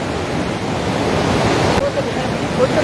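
Strong water current rushing through the open lock gates of Durgapur barrage: a loud, continuous broadband roar, steady and close, with wind buffeting the microphone and no clear voices.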